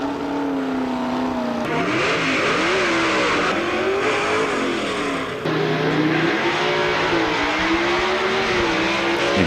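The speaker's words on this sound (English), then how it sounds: "both cars charge off the line, and on the top end, Stahl just nips the Camaro in the lights" Two 1960s drag racing cars, a Hemi Plymouth and a Camaro, launch hard off the line with loud, continuous engine roar, rising revs and gear changes, close and sustained with no talking.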